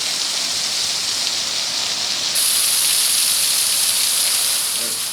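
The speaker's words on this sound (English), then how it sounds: "Alright, the rain's starting to taper." Heavy downpour from a July storm, a dense, loud, steady hiss of rain pouring down without a break, intensifying partway through and continuing alone with no talk.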